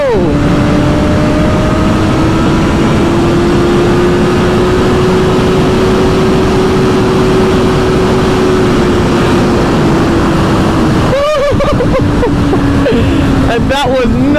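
A 2024 BMW S1000RR 1000cc sport motorcycle accelerates, its engine drone rising and holding steady beneath heavy, constant wind roar, with a few sharp buffeting bursts near the end.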